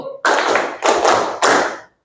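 Three loud hand claps land in an even rhythm, each a broad, close slap spaced about half a second apart.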